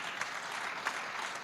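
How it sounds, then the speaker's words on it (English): Brief, fairly faint burst of audience clapping at a conference, a soft even patter with no voices. "please join me to applaud Gautam"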